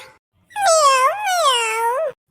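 A cartoon cat gives a single drawn-out meow with a pitch dip in the middle, clear and close with no other sound.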